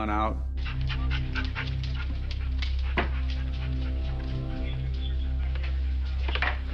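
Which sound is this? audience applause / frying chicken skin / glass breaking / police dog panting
police dog panting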